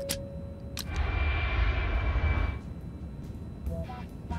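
A fixed-wing aircraft on its approach to landing, its steady engine roar swelling and holding loud through the middle before easing off, with a few brief knocks and clatters near the end.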